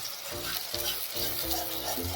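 Crushed garlic sautéing in a pan with about two spoons of water while making pav bhaji, a close bubbling sizzle with soft stirring scrapes through the short stretch.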